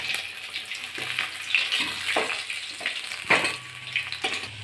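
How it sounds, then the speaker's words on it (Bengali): Tilapia pieces frying in mustard oil, a moderate steady sizzle with repeated soft stirring or turning scrapes and light clinks, no voices. "বাকি মাছগুলো আমি একইভাবে ভেজে নেব"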